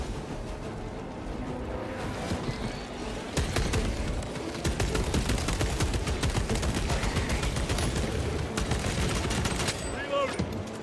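Heavy guns in Warhammer 40,000: Space Marine 2 fire in sustained rapid bursts, a dense rattling barrage that thickens after a few seconds and keeps going almost without pause, with game sounds beneath.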